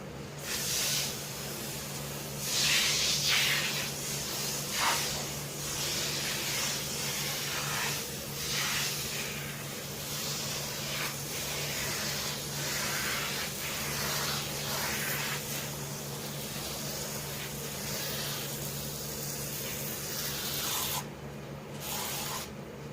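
Dollar-store carpet cleaner sprayed onto a dirty Peavey 115DL speaker cabinet gives a steady hissing spray with bursts of scrubbing and rubbing over it, sustained at moderate level throughout.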